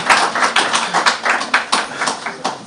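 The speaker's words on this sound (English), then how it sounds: "Shall we give another round of applause to the Vice President" Audience applause for the Vice President at a Davos gathering, a dense, steady roar of many hands clapping with rhythmic surges, loud and close, with no talking over it.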